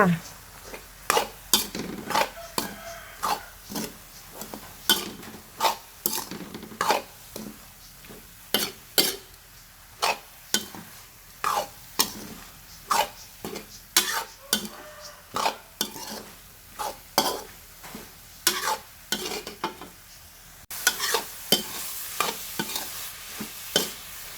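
Curry leaves and seasoning stir-fry in a pan, a loud run of rapid, rhythmic metal spatula scrapes and clanks over a continuous sizzle that keeps going for a long stretch, with no talking.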